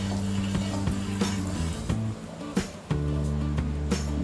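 Turmeric hitting hot oil in a kadai while making murmura chivda sizzles steadily, with background music and sharp stirring clinks against the pan throughout.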